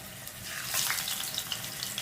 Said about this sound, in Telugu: దాంట్లో సరిపడేంత ఆయిల్ వేసుకుందాం అండి చూడండి ఫిష్ని వేసాము